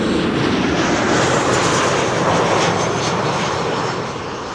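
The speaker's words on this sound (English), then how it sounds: "Transavia flight 6894 arriving from" A Transavia jet airliner arriving at Amsterdam Schiphol Airport, a loud steady broadband engine roar passing close by, easing slightly toward the end.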